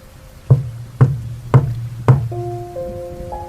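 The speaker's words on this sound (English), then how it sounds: "Then, I hear the knocking again." Four heavy knocks on a door, evenly spaced about half a second apart, each booming low, followed by a faint sustained hum.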